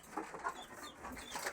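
Hens in a coop where eggs are being collected give a few quiet, uneven clucks, faint and fairly close, with no speech.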